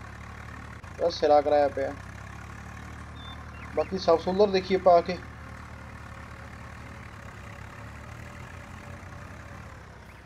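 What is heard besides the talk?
Swaraj 744FE tractor engine running in video game Farming Simulator 19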